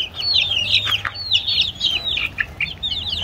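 Chickens clucking close by, with a rapid run of short, overlapping chirpy calls continuing steadily throughout, over a low background hum.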